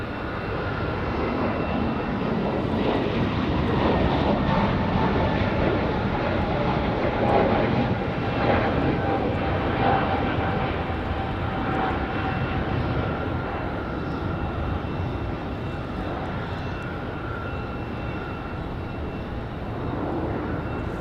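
A UPS cargo jet departs at night from Raleigh Durham airport, its loud sustained engine roar swelling slightly then easing, with a whining tone running through the rumble.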